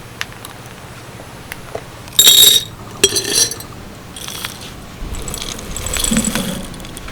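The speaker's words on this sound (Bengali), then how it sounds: "ডাল ভাজা যদি এইভাবে কাঁচের বয়ামে করে রাখা যায়" Fried lentils are stored in a glass jar, giving two short bursts of bright glassy clinks and rattles, with quieter rustling afterwards in an otherwise calm kitchen.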